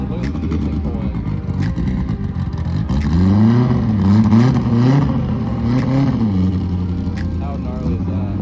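A Nissan GT-R accelerates hard at an underground car meet, its engine pulling with a loud rising and falling drone that climbs in pitch, while crowd chatter and voices carry on underneath.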